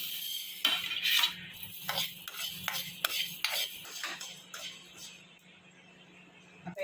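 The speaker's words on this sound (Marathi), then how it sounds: "आता आपण हे मेथी, तीळ आणि धने सगळे एकदम भाजून घेऊया।" Fenugreek, sesame and coriander seeds dry-roast in a pan for chutney, stirred with a metal spoon that scrapes and clinks against the pan in a rhythmic series of close, fairly quiet strokes.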